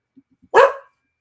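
Dogs give a single loud, sharp bark up close, preceded by a couple of faint soft yips, then silence.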